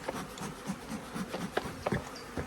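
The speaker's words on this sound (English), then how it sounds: "I'm going to tip all the other bees into the feeder" Honey bees hum faintly while being tipped into a feeder from a small paint-pot nucleus hive, with scattered wooden knocks and scraping from the hive parts.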